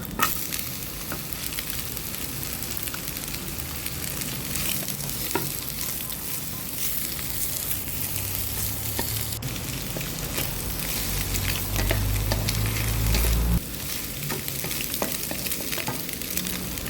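Bitter melon, egg and garlic stir-fried in a pan, with a steady close sizzle and frying crackle, scraping stir strokes throughout and a louder burst of sizzling near the end that then drops away.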